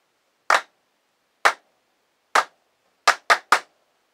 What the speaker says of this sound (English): That was some fine clapping, man.